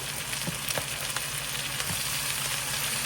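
Kale and fresh vegetables stir-fry with curry seasoning in a hot pan, giving a continuous close sizzle with occasional soft stirring knocks and no talking.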